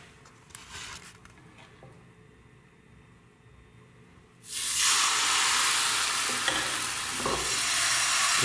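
Pancake batter poured into a hot, steaming frying pan for Russian blini, starting after a quiet stretch as a sudden loud, broad sizzle that keeps hissing steadily to the end.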